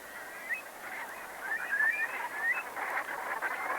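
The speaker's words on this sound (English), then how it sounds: "where the dark-bellied Brent geese come from Arctic climes to winter, feeding on their favourite grasses that grow here in abundance" Dark-bellied Brent geese wintering on a marsh between land and sea, a flock giving repeated soft honking and murmuring calls at moderate distance, steady and continuous without talk.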